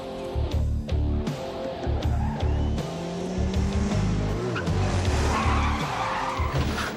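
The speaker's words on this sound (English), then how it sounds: "There's Cordelia whacking into the car in front of her" A car skids with squealing tires and bumps into the car ahead in a TV drama scene, the engine and skid loud and continuous beneath layered background music, with no talk.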